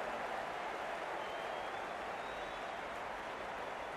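Steady applause and crowd noise fill the ground at a cricket match, an even wash of clapping that holds throughout without break.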